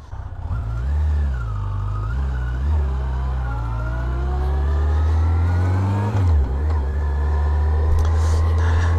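A Yamaha FJR 1300 motorcycle engine idles and then revs up and down, a loud, close, throaty roar that rises and falls repeatedly, then climbs steadily toward a sustained higher pitch.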